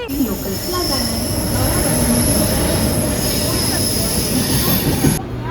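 A local train rolls along the rails with a loud, steady rumble, high metallic wheel squeal ringing over it the whole time, close by.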